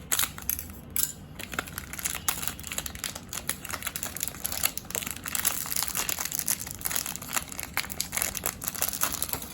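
Crinkling and crunching of plastic packaging being cut open around an HP ink cartridge for a DeskJet 2336 printer, a close, busy stream of sharp snips and rustles with no talking.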